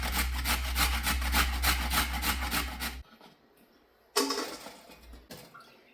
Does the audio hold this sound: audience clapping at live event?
no